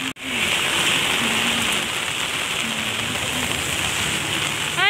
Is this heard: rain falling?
yes